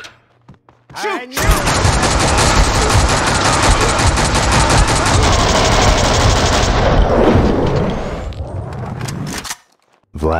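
Dense, loud gunfire in Max Payne 2 roars almost without pause for about six seconds of rapid automatic bursts and overlapping shots, then cuts off into near silence.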